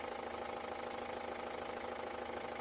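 Ford Transit Mk6 engine idling steadily after an oil change, a continuous close mechanical hum with a faint rhythmic knock and no voices over it.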